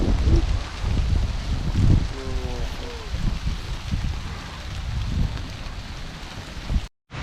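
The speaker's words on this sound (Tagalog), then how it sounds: "Hindi na ambon yan, ulan na." Rain falling outdoors on a farm, a steady wash of patter with low rumbles and bursts of wind, while a voice speaks briefly over it.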